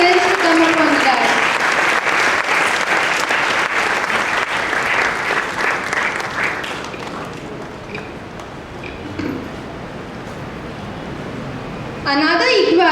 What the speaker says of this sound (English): So give a big round of applause for him.